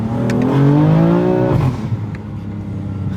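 A BMW M3 Competition engine revs up with a rising growl, then drops off into popping, crackling exhaust burbles as the throttle lifts.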